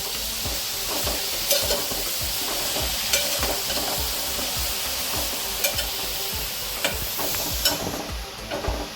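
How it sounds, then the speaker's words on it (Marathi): Carrot halwa stirred in a pan, with steady sizzling hiss and repeated soft scraping strokes of the spoon against the pan, close and moderately loud, without any talking. "त्यात मी हलवून घेत आहे"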